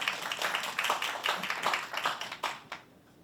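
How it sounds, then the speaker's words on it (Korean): An audience at a lecture on public finance and taxes claps to welcome the speaker, a dense burst of many hands at moderate volume that thins out and stops, leaving near silence. "자, 큰 박수로 맞아주시면 고맙겠습니다."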